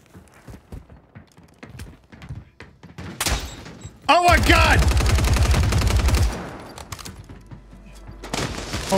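Call of Duty: Warzone gunfire on Rebirth Island erupts in a short burst, then a sustained rapid volley, amid clicks and other game noises.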